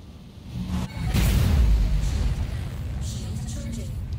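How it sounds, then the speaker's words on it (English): A size 9 torpedo striking a target in the space game Star Citizen, a deep rumbling boom that swells and lingers, with a person talking over it. "One size 9 torpedo again."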